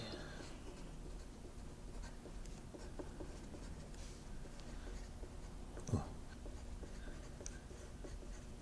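A child writing a thank you note by hand, soft steady scratching of pen or pencil on paper, faint and close in a quiet room, with occasional light taps and no talk.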